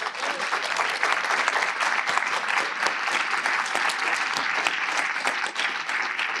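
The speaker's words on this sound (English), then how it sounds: "Yes, we can applaud for him." A forum audience at a Westside mayors event applauds a longtime local figure being welcomed up, with dense, steady clapping that stays loud and even for several seconds and carries no talk over it.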